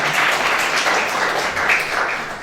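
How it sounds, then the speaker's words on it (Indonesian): A church congregation at a Sunday worship service with Holy Communion claps together in a steady, moderately loud wash of applause that keeps going throughout. "Berikan tepuk tangan yuk bagi dia."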